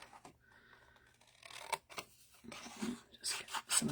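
Crisp, irregular snipping and rustling of paper close by, with a few louder crunchy cuts toward the end and no talking.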